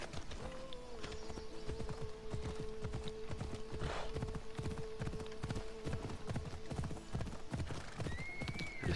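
A horse gallops in the video game Assassin's Creed Odyssey, with rapid rhythmic hoofbeats running steadily under a sustained tonal background and a brief whinny near the end.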